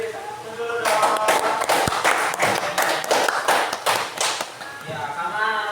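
High school students clapping in unison in a classroom, a dense burst of sharp hand claps lasting several seconds, fairly close, with a voice speaking before and after.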